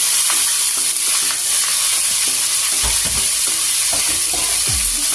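Onions sautéing with coriander, mint and chopped tomato in a pan, a loud continuous hiss and sizzle with low scraping stirs and spatula knocks throughout, no voices.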